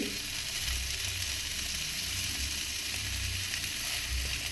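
Garlic and ginger sauté in a pan with chayote and onion, giving a continuous sizzling hiss with low bubbling crackles that swell at intervals. The cooking is close and steady, with no talking.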